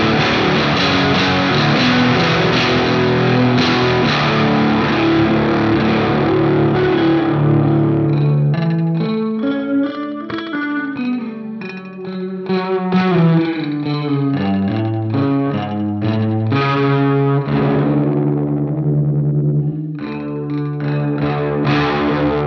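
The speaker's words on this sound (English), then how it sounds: "You've got chorusing type noises." An electric guitar runs through an OBNE Beam Splitter delay pedal, a dense wash of chorusing repeats that thins into cascading, smeared notes midway before swelling back into a thick, loud texture, with no talk.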